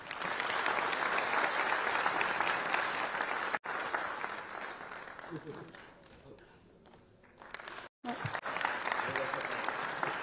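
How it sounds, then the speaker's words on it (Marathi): Loud sustained applause fills a crowded hall at a political speech event in Pune for Maharashtra's Deputy Chief Minister, dipping briefly before swelling again. "जोरदार टाळ्या।"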